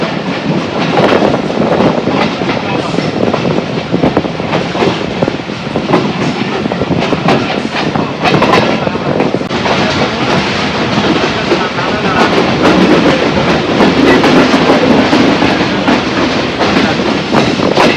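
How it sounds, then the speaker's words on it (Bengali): A Joydevpur commuter train running on the rails from Dhaka, a loud continuous rumble with rhythmic clickety-clack of wheels over joints, heard from onboard throughout. "আর পেপার লাইন ক্লিয়ার পেয়ে আমাদের ট্রেন এখন জয়দেবপুরের দিকে অগ্রসর হয়েছে"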